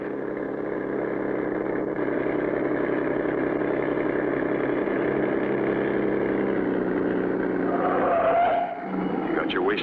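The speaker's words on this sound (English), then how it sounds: "The driver starts the motor and away goes the truck" A truck motor in the Clutch Cargo cartoon The Mystery in the Northwoods runs as a loud, steady engine drone throughout, with a brief rough shift near the end.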